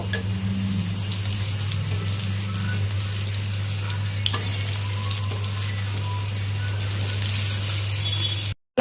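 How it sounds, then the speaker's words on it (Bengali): Continuous sizzling of lentil fritters frying in hot oil, steady and close, with a low constant hum underneath and no talking. "তেল দিয়ে দিলাম, এখন বড়া ভাজবো।"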